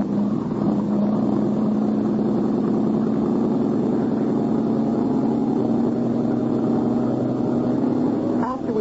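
A motorboat engine runs steadily and loud throughout, a constant droning hum with a low pitched tone, close by and continuous.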